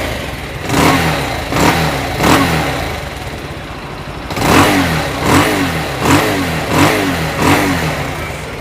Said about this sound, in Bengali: মনে হচ্ছে একটু ফাটা সাউন্ডটা আসছে বাইকের।